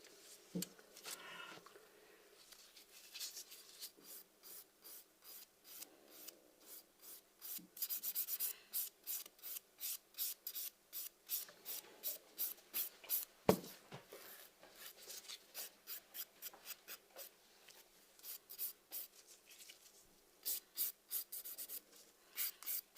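Acrylic nails being filed and reshaped, a rapid run of short rasping strokes that comes in bursts, close and fairly quiet, with only occasional small bumps between passes.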